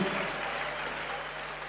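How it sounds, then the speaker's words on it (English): Audience applause for a speaker at a political party's flagbearer campaign launch, a steady dense wash of many hands clapping in a hall, fairly faint and continuous throughout with no talk. "another round of applause for our distinguished speaker, Honorable Dr. Owusu Afriyie Akoto"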